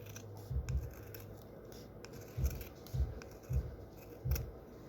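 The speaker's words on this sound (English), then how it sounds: "the last cut will be right here towards the bottom to get this excess off" Scissors trimming excess fabric off the bottom of an embroidered patch, a handful of close, crisp snips spaced apart in an otherwise quiet room.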